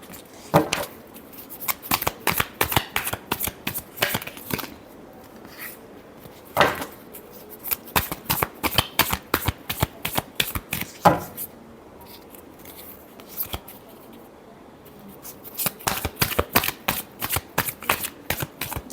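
Tarot cards shuffled by hand in quick, crisp riffling bursts, close and loud, pausing twice before resuming, with no talk over them.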